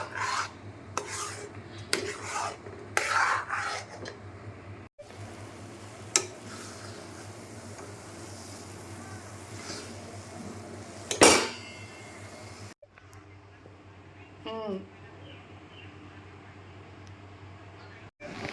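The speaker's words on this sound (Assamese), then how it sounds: "কম জুইত মানে এনেকৈ আপুনি হিলাই থাকিব লাগিব খালি" A spoon scrapes and rasps against a wok while stirring a thick milk powder peda mixture, with repeated rubbing strokes, a few sharp clinks and a steady hum underneath.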